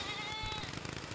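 A goat bleats in the video game Airport Renovator, one short wavering bleat that comes up loud and close over a busy, noisy game backdrop.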